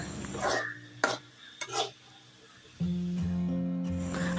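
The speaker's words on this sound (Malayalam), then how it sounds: "അതിനോട്ട് പപ്പായയും നമ്മുടെ ചീരാമുളക് മിക്സും കൂടി ഇട്ട് നല്ലപോലെ ഇളക്കുന്നു" Papaya and chili mix stirred in a pan: a few scraping strokes with soft sizzling, then a steady low frying hiss and hum, close and fairly quiet, with no talk.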